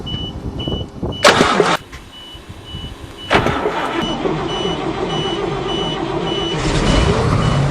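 A 427 dump truck engine cranks in short loud bursts, then catches on the first try and settles into a steady, smooth idle that continues alone with no one speaking.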